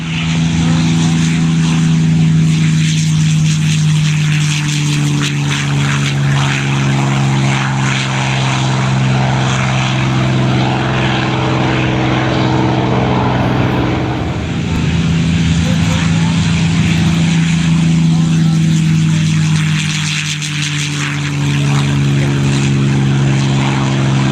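A P-51 propeller airplane drones loudly overhead at an air show, its engine roaring steadily with a throbbing low pitch that rises and falls slightly as it passes.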